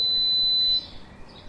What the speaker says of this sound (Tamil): ஒரு பீப் சவுண்டு கேட்குது ஜனனி, அது கேட்கறது வரைக்கும் ப்ரெஸ் பண்ணிட்டு வா